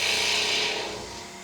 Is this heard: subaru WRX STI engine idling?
no